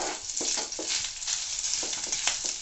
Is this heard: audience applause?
no